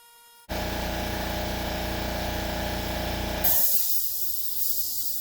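A garage air compressor kicks on abruptly with a loud, steady droning motor hum, then a sudden hissing rush of air joins in partway through, close and continuous.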